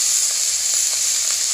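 Dried fish frying in oil in a village kitchen, a steady, even sizzle with a dense hiss that runs unbroken throughout and no voices.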